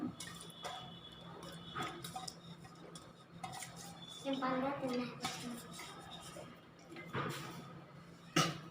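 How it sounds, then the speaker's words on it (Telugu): Washed amaranth leaves dropped into a pot with water in a home kitchen, bringing light clinks of a vessel and utensil, soft knocks and a few scattered taps, fairly quiet, with a voice speaking briefly partway through. "ఇప్పుడు దీంట్లో కడిగి పెట్టుకున్న తోటకూర వేస్తున్నాను"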